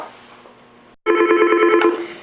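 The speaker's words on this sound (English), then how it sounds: "so that I don't have to listen to the phone and they don't have to hear it ringing any further" An office desk phone rings with an incoming call: a quiet hum, a brief silence, then a loud, steady electronic ring that fills the rest of the clip.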